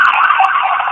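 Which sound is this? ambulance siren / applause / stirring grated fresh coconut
ambulance siren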